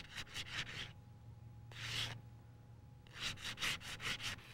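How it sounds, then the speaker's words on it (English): Sandpaper rubs steel to strip gray scale in quick rhythmic back-and-forth strokes: a burst of several scrapes, one longer stroke, then another rapid run of scrapes, close and fairly quiet with a low hum underneath. "I'm going to get rid of that with sandpaper."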